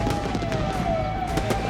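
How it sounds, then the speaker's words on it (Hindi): Explosions at a fireworks factory in Harda, heard as a dense, continuous crackling roar with sharp bursts popping through, loud and unbroken, with a steady tone running underneath. "इन तस्वीरों में अभी भी धमाकों की आवाज सुनाई दे रही है"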